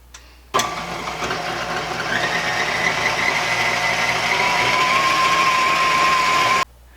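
Electric mixer running on medium speed whipping aquafaba with cream of tartar, a steady motor whir that starts abruptly, rises slightly in pitch partway through, and stops cleanly.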